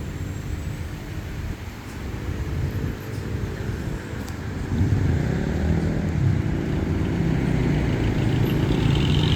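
A Leo motorcycle on a test ride, its engine droning steadily with a low rumble that grows louder and rougher partway through, as if revving up or passing closer.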